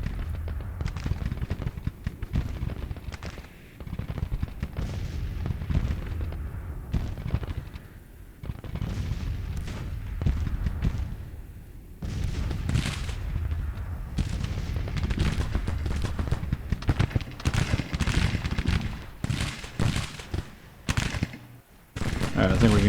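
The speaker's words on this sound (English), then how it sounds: "Let's make sure we have all our guns firing." Battlefield gunfire in the Civil War strategy game Grand Tactician: The Civil War, with dense crackling musket volleys and booming artillery rolling on continuously at steady loudness throughout.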